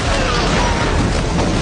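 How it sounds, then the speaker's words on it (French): A sudden, loud explosion rocks a prison during a hostage standoff in a TV police drama. It is a dense, booming blast with rumbling debris that stays forceful across the short moment. "Une explosion soudaine perturba le plan de la police."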